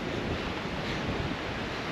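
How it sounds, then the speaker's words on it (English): Strong wind blows hard into the microphone at an outdoor campsite in the Flinders Ranges, a dense continuous roar with no pauses. "if it's this windy here"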